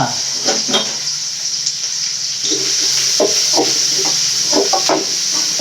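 Curry leaves and onion sautéing in hot oil in a home kitchen, a close steady sizzle with intermittent stirring clicks and scrapes, moderately loud throughout.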